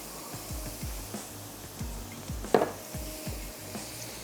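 Onions frying in a pan for pulao, a steady sizzle under repeated scraping strokes of a spoon against the pan, with one sharper metallic clink near the middle, close and fairly loud, no talking.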